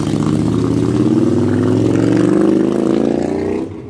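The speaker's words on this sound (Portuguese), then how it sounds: "Olha o motor." A car engine idles steadily and loudly close by, with a dense low-pitched rumble and faint clattering, running continuously before cutting off at the end; the vehicle is noted as having a leaking radiator.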